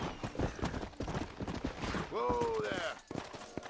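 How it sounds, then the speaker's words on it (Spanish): A gunfight crackles in the Red Dead Redemption video game near Shola Springs, with scattered shots mixed with horse hooves and a brief whinny, under game dialogue and someone talking over it. "Pero escucho otro tiroteo."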